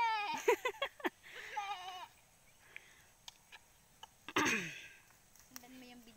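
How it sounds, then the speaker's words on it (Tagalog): A goat bleats several times in quick wavering bursts near a horse, then one more loud bleat follows after a pause, with faint clicks and background voices around it. "Ang kanding po, me!"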